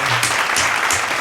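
Applause sound effect inserted during editing, a short dense burst of clapping lasting about a second, loud and steady with no voices over it.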